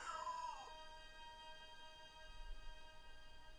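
A domestic cat lets out a single short, croaky meow up close at the start, followed by quiet room tone with a faint steady hum.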